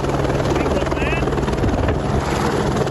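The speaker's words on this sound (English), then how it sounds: "a helicopter approached, flying low to the ground" A helicopter flying low to the ground drones steadily and close on a trail between Redfish and Stanley, its rotor rumble filling the background throughout while someone talks over it.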